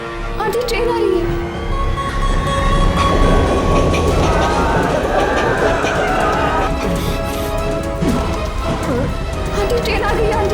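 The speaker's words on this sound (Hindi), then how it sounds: "ट्रेन आ रही है" A train rumbles into a station, a loud, continuous clatter of wheels and carriages with squeals and hissing, while people talk over it.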